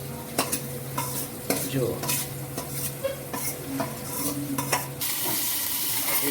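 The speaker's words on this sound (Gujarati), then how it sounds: "હવે જે બાફેલી મેથી હતી એ આપણે અંદર નાખી દઈશું." Boiled fenugreek being stirred into a frying pan of spiced chillies, with repeated scraping strokes over a steady sizzle and light clinks of utensil on pan, close and fairly loud; a voice briefly speaks.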